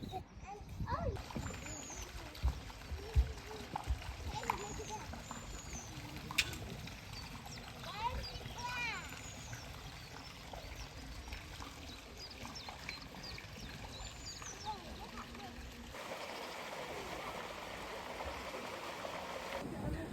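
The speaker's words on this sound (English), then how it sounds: "This tank was as dry as a bone when we just walked here, and all of a sudden, the water started to flow out" Water pours and splashes into an empty tank at a seal sanctuary, a steady rushing flow. Birds call faintly in the background and a few sharp knocks sound through it.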